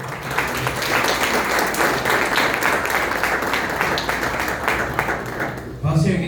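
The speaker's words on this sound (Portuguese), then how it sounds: "Vamos receber o servo do Senhor com palmas." A church congregation claps to welcome a visiting preacher, dense and sustained clapping mixed with voices and cheers, loud and close, dropping briefly near the end before a voice comes in.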